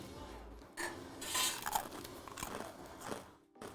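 Crunchy croutons in a spinach and grape salad are bitten and chewed close up, a run of sharp crackling crunches that rise and fade over several seconds.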